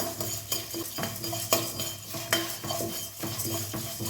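Curry leaves roast in a pan with mustard seeds, a spoon scraping and knocking against the metal in uneven strokes over a light sizzle, close and clear with no talk.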